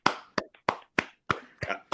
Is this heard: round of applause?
yes